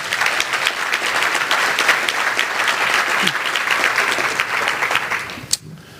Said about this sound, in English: Can we have one more round of applause for Danny Shader?